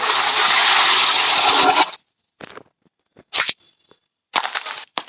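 A toilet flushing in a prison escape simulator video game: a loud, steady rush of water for about two seconds that cuts off abruptly, followed by a few short scraping clunks and splashy bursts.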